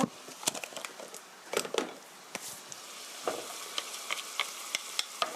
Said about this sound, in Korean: 고루 볶아주세요